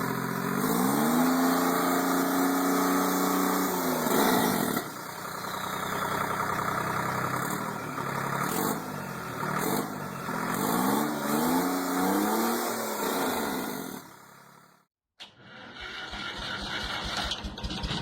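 A Detroit Diesel 3-53T engine runs loud and close, revving up and down in repeated swells over a gruff idle. The sound cuts out abruptly near the end before the engine picks up again.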